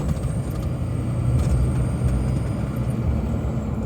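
An LBZ Duramax diesel with a 9-blade stainless turbo and stock exhaust, heard from inside the cab with the windows up: a steady, muffled low rumble with a faint thin whine riding above it.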